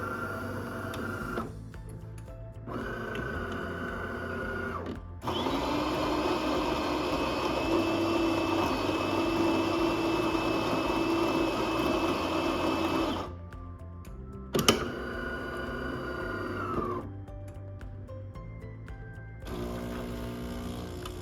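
A Fulgor Milano built-in coffee machine makes a single espresso, with a steady mechanical pump hum and whir between short pauses and clicks. It runs loud and close with no talking.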